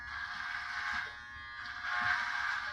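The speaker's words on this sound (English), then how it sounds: "These Andis T outliners are so sharp that it just cuts straight through that with ease" Andis T-Outliner electric trimmers buzz steadily while cutting coarse hair on a head being shaved bald, a close, continuous whine that swells slightly twice.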